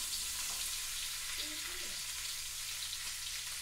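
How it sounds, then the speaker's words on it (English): Bacon frying in a pan, a soft continuous hiss and sizzle with faint crackles throughout, steady and close, with no speech over it. "this bacon's cooking"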